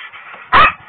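A police dog gives a single loud, close bark during an arrest, rising sharply out of a low background hum and then fading.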